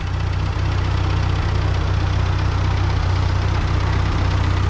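An old, roughly 80-year-old Ford 9N/2N tractor engine idles steadily, a loud, close, even low throb with a faint rhythmic knock and no voices.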